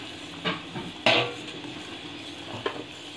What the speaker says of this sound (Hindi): अब हम इसको थोड़ा हलाएंगे।